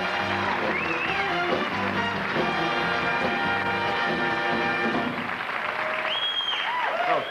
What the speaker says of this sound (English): Oh, the wind from your applause.